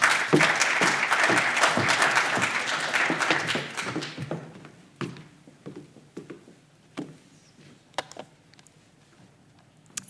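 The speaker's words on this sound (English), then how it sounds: "we'll give him a big round of applause." A room of people applauds warmly for a speaker coming up at a small climate talk event, the dense clapping fading after about four seconds into scattered, isolated claps.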